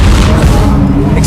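Confringo fire spell blasting in the video game Hogwarts Legacy, a single loud, deep boom that swells and rumbles off over a second.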